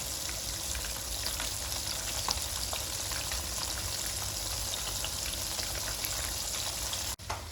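Egg-and-besan coated chicken fries in ghee, a dense, even crackling sizzle that runs without a break, ending in a brief knock near the close.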